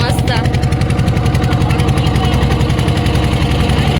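A loud, steady diesel boat engine chugs with a fast regular throb throughout, close by and continuous, on the Narmada River.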